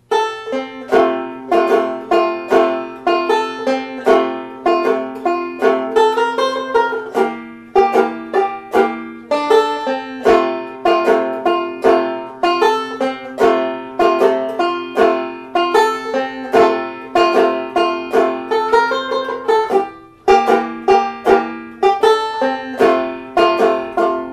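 A tenor banjo plays a bright, plucked tune in the jazz song Eh La Bas, with steady strummed chords and quick picked notes, crisp and close, with no voices.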